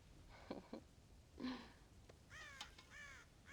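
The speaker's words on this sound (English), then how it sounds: "God damn crows!" Crows caw in the video game Red Dead Redemption around a corn silo on a farm, several harsh separate calls in a loose series, fairly near, with no talk over them.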